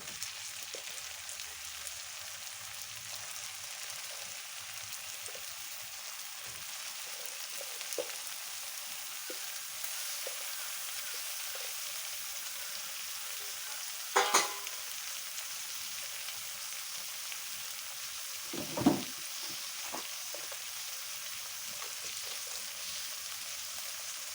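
Soybean chunks fry in a pan with a steady, soft sizzle that runs throughout, broken by a couple of brief clattering knocks, no talking.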